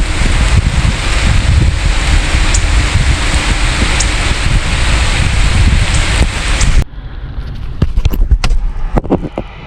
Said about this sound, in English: right when I get here, it starts pouring